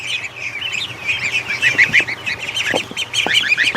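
Young ducklings and a gosling kept as pets chirp rapidly and continuously, high peeping calls overlapping close by, with a few soft thumps of movement underneath.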